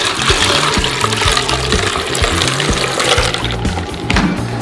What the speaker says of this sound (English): Pour in some milk.